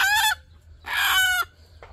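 White mini bantam chickens give three close, loud clucking calls, the middle one longest, with a brief quiet gap between each and a faint low hum underneath.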